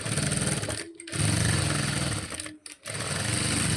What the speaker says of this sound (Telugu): ఇలా కుట్టేసుకోవాలి నడుం సైడ్